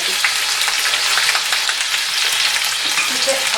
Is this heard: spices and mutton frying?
yes